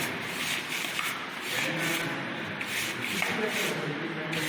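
Green molding sand being mixed by hand for a permeability test, a steady close scraping and rubbing of grains that runs continuously with faint background noise.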